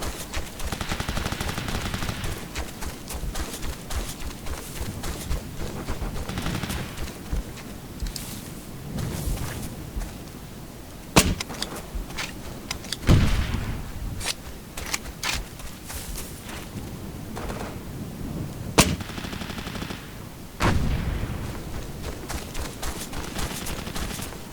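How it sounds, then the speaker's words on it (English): Suppressive gunfire in Operation Flashpoint: Dragon Rising, with sustained bursts of automatic weapons fire and scattered single shots, a few sharp loud cracks and distant rumbling reports over about 25 seconds. "Suppressive fire."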